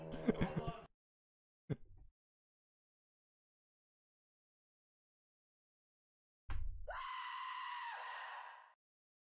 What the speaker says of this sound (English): I actually had to edit a little bit of sound out of that to make it so it was just Ren's scream and nothing else